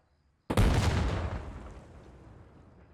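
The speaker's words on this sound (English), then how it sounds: "Medium explosion." A medium explosion in the military shooter Arma Reforger bursts suddenly out of near silence, one heavy blast with a booming low rumble that slowly rolls away and fades over a couple of seconds.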